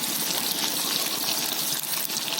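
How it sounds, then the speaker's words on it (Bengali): Garlic dropped into hot oil over a wood fire, giving a loud, dense, hissing sizzle that holds steady and close for the whole short stretch. "তেল গরম হয়ে গেছে, এবার তেলেতে চলে গেল রসুন"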